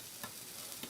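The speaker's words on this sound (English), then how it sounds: "Look at that sizzle." Jersey Mike's subs sizzle on a hot grill, a soft, steady frying crackle with a couple of brief stirring scrapes, heard close and without talk.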